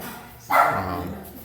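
A dog at a rented house in Tanjay City, Philippines gives a single short bark, fairly near, then a brief whimpering tail over quiet room background.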